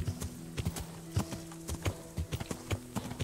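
Horse hooves clip-clop in Kingdom Come: Deliverance, a steady walking rhythm of sharp hoof strikes over a faint tonal hum, with no speech.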